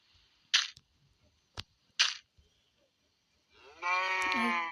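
A cow moos once in a One Block video game, a clear, drawn-out bellow near the end that follows a few sharp, isolated clicks against otherwise quiet background.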